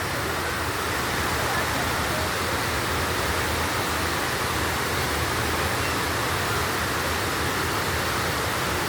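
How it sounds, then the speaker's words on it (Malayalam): Aruvikuzhy waterfall in Kerala, near Kottayam and Pala, roars in a steady, broadband rush of falling water, constant and enveloping with no pauses. "റൈറ്റ് സൈഡ് അവിടെ ഒരു വെള്ളച്ചാട്ടം."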